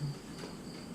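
Crickets chirp faintly in the background as a single steady, high-pitched trill, quiet and continuous.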